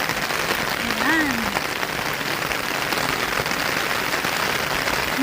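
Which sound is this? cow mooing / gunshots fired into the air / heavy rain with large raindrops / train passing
heavy rain with large raindrops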